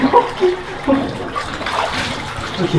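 Water running and gurgling into a small drain hole inside an underground sewer tunnel beneath a city, a steady close wash with splashy bursts, no talk over it.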